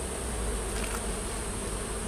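Robber bees buzz around a weak, failing hive in a dense, continuous hum with no voices.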